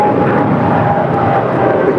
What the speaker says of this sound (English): 777-300ER is departing the Tokyo Narita.